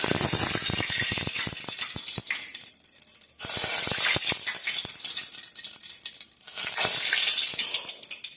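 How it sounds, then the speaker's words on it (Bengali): Dried fish dropped into hot oil in a home kitchen pan, giving a dense, steady spitting sizzle with crackling pops that thins briefly twice and then swells again, close and loud with no talk. "এই যে শুকুই দিয়ে দিলাম তেলটাতে।"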